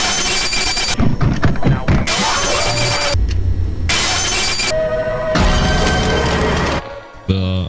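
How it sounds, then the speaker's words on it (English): Jump scare from the video game Fazbear Tomb: a loud, harsh burst of distorted screeching and crashing noise in several blasts with brief gaps, ending in a buzzy stutter, with a voice briefly under it. "I'm gonna play the jump scare sound"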